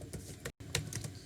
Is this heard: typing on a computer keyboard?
yes